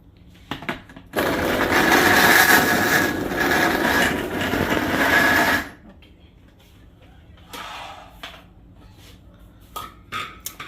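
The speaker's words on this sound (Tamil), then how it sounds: "கொஞ்சம் கொஞ்சமாக போட்டு அரைச்சி எடுத்துப்போம்" Kitchen mixer grinder blending ingredients for healthy high-protein laddu, a loud continuous whirring grind for about four seconds that then stops, followed by quiet clinks and handling noises nearby.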